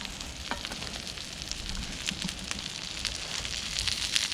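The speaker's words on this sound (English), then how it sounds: "This is like cooking burgers." A Beyond Meat plant-based burger patty fries in a pan with a close, crackling sizzle and scattered pops, steady and loud throughout.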